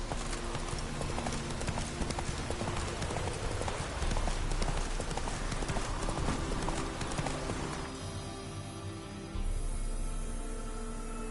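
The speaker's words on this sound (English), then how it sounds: "Run, Roach." Hooves of the horse Roach in The Witcher 3 video game, galloping in a fast, steady clip-clop rhythm that stays loud and close throughout, with a low background rumble and no speech.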